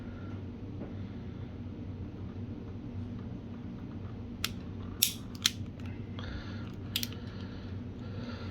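A Tokyo Marui SAA .45 Artillery toy revolver hammer cocks in a quick burst of about four crisp clicks, the first very quiet, close by, over a constant low hum.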